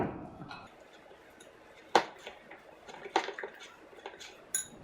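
A plastic spoon stirs sweetroll batter in a bowl, making scattered clinks and scrapes against the side, with a few sharp knocks standing out in a quiet room.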